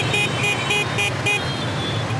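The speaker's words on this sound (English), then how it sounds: "Two honks means I want to overtake" A car horn honks repeatedly in short, evenly spaced toots over steady traffic rumble.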